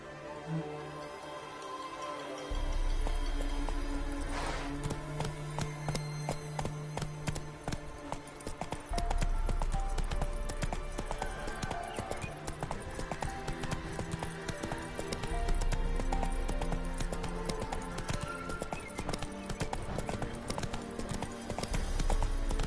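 Roach, the horse in The Witcher 3, gallops with a steady, rapid clip-clop of hooves that continues throughout, loud and close, layered over game music and ambient sound.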